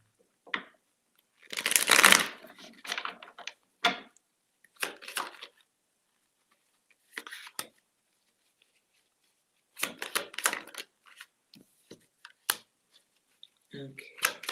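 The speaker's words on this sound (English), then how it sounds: "I'm going to shuffle one more again" A deck of playing cards being shuffled, with a loud riffle burst near the start and shorter bursts of card noise later, set between stretches of talk.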